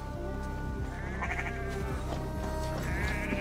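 Sheep bleat in the video game Assassin's Creed Valhalla, several wavering calls over a low steady ambient bed of game audio, moderately close and with no talk.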